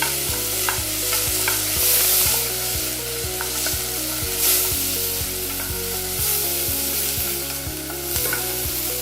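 Coconut oil sizzles steadily in an overheated pot for a butternut soup, a continuous hiss running under prominent stepped tonal music throughout.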